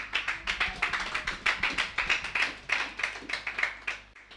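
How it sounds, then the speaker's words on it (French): A church congregation applauding in rhythm, loud steady claps at an even brisk tempo throughout, close and crisp with a faint low hum beneath and no voices. "Acclamons pour la gloire de Jésus."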